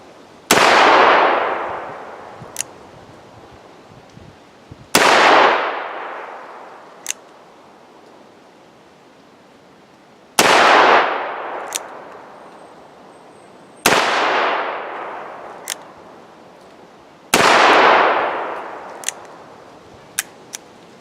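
A Ruger GP100 seven-shot .357 Magnum revolver fires 110 grain Winchester white box rounds, five sharp, loud shots spaced a few seconds apart outdoors, each with a decaying tail and faint clicks between.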